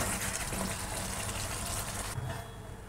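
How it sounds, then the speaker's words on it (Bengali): Water gushes steadily into a pot of braising meat on the stove, a loud, close rushing pour that stops abruptly near the end. "জল দিয়ে দিলাম"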